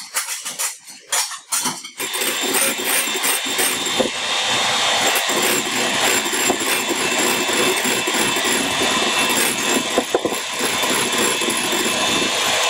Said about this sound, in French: Hop, on va faire monter en neige.